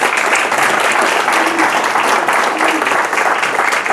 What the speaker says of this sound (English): I'd love to hear a round of applause celebrating David's career here at the city